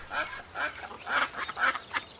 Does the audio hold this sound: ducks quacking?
yes